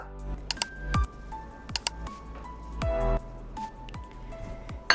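Roasted kunafa being stirred into thick oat pancake batter, giving a run of wet squishing, scraping sounds with a few sharper taps against the bowl, close and fairly loud with no talking.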